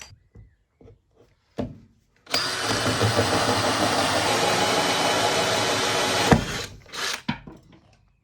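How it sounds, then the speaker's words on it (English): A 32mm drill bit bores a tap hole through a kitchen benchtop in a Toyota Coaster motorhome, a loud steady drilling roar lasting about four seconds, framed by a few knocks and handling clatter before and after. "32mm drill bit."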